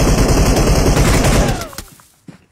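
Burst of rapid gunfire from a shooting video game, loud and dense, fading out with a trailing echo and a faint final click.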